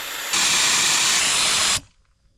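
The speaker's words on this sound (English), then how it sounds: "take my tires down to 30 PSI for a little smoother ride out to the campsite" Air hissing out of a Sprinter 4x4 van tire being let down to 30 PSI, one loud close steady hiss of about a second and a half that cuts off sharply into quiet.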